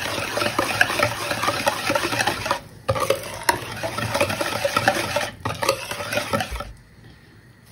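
A spoon stirs semolina in a pan with a steady scraping, shuffling rhythm and light sizzle, close and fairly loud, broken by brief pauses before stopping near the end.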